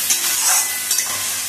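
Poppy seeds frying in a pan until reddish: a loud, close, unbroken hiss and sizzle with faint crackles, no voices.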